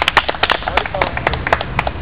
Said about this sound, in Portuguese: O Alex Steiner, uma salva de palmas para ele.